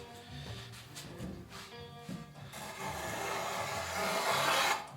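A hand plane shaving wood on a Greenland paddle, with uneven scraping strokes that grow into a longer, steadier rasp, close by and moderately quiet.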